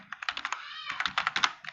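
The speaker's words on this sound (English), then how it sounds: "Now I'm typing in that next B6" Rapid typing on a computer keyboard while entering text into a spreadsheet cell, a steady run of close, crisp key clicks with no talking.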